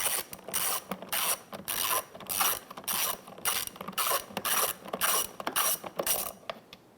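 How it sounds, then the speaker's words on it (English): A ratchet with an 8mm socket loosens screws on the fog light trim of a 2009-2015 Honda Pilot, giving repeated close, loud bursts of rapid clicking separated by short pauses. "Let's go ahead and loosen and remove those screws."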